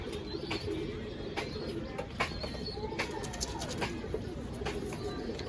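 Pigeons in a loft, including a nesting pair with the male sitting on eggs, make soft repeated coos and chirps. The calls come close and fairly quiet over a low background hum, with a brief flutter of wings.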